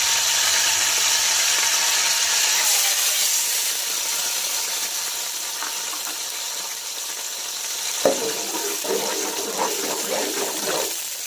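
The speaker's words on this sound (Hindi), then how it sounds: "अब दम लगाने के लिए सबसे पहले मैं इस ऑयल में अंडा डालूंगी।" Egg dropped into six or seven big spoons of hot oil for a desi-style egg fried rice, giving a steady loud hiss and sizzle that flares with sharper crackling bursts near the end.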